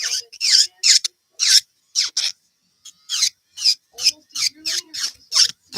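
An electric nail drill bit files a nail in short bursts of close, high, raspy grinding, about a dozen separate passes separated by brief silences, with no speech.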